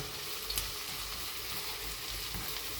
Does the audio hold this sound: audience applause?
no